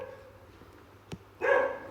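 Dogs barking at a distance behind a low steady hum, with a faint yip near the middle and a louder burst of barking in the final half second.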